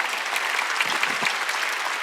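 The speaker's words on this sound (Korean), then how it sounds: "박수 치러요. 박수." A church congregation at a Korean Wednesday worship service breaks into a burst of applause, dense and continuous hand clapping from many people filling the room for about two seconds.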